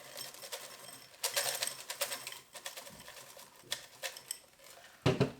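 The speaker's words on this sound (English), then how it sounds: "I like to fill my glass with crushed ice." Clinking, rattling crushed ice tumbles into a glass for a gin bramble in several bursts, with a sharper clatter near the end; close and fairly quiet.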